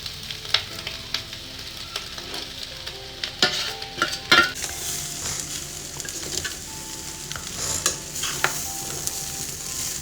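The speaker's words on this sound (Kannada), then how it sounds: "ಒಂದು ಎರಡು ನಿಮಿಷ ಫ್ರೈ ಮಾಡ್ಕೊಳ್ತಾ ಇದ್ದೀನಿ" Leftover chapati and egg fry in a pan on a low flame, with a steady close sizzle broken by repeated scraping stirs of a spatula.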